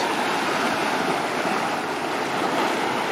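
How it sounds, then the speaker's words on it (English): Sea waves washing onto a small rocky cove on Koh Samet, Thailand, a continuous loud broadband rush of surf with no distinct breaks, heard alone without voices. "the sea is a few more waves here"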